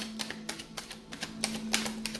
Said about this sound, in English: So, one last shuffle.